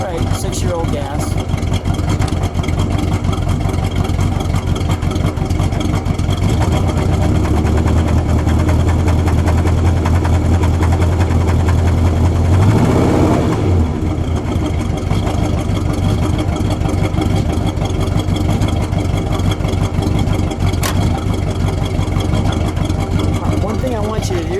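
A 1969½ Plymouth Road Runner A12 with a 440 engine running on six-year-old gas, a loud steady rumbling idle up close with one brief rise in revs midway.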